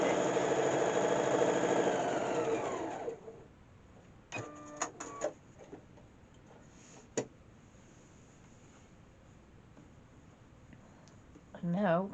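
A sewing machine stitches quilt block rows together for a star block, humming steadily for about three seconds before stopping. Scattered clicks and handling noises follow, with a brief whir near the end.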